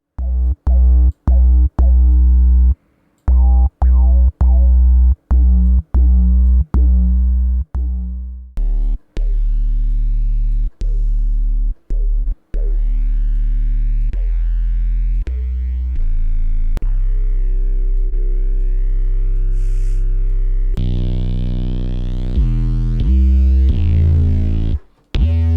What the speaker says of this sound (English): now just with a sine wave, we've got like a sort of a distorted sine wave sound